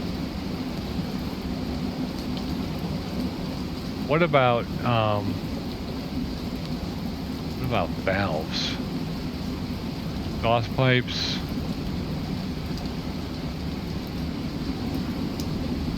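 Steady rain hisses through a scene in the video game Plane Mechanic Simulator, a constant wash under occasional spoken words.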